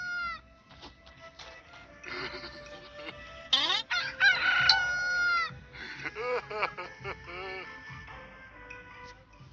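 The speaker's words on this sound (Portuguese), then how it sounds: "Quando ouviu o galo cantar" A rooster crows repeatedly with long, shrill calls, mixed with cat-like meows and clucking fowl nearby; no one speaks.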